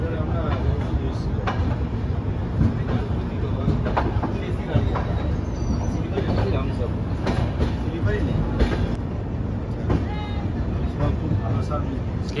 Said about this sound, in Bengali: ছেড়ে দিল আমাদের ট্রেনটি লখনৌ চারবাগ স্টেশন থেকে